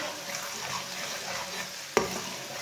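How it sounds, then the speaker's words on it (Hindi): Crushed garlic browning in a pan with lightly browned onions, a soft continuous sizzle with one sharp spatula tap near the end, fairly quiet and without talk. "लहसुन को भी थोड़ा सा ब्राउन कर लेंगे।"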